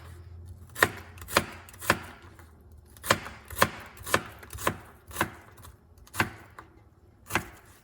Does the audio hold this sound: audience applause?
no